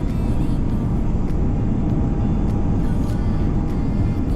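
Emirates Airbus A350-900 with Rolls-Royce Trent XWB engines at full TOGA takeoff power from Dubai, heard as a loud, steady, deep roar that holds without letup throughout.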